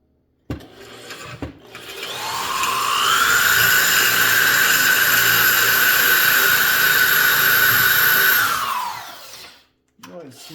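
A Dremel rotary tool cuts into a vintage McGraw-Edison Eskimo box fan blade, its high whine rising quickly to a steady loud pitch, holding for several seconds, then winding down and stopping.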